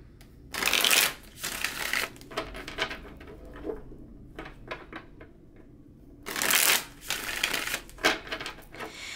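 A tarot card deck shuffled by hand up close, with two long riffling bursts separated by a stretch of lighter tapping, squaring and card-handling clicks, and no talk.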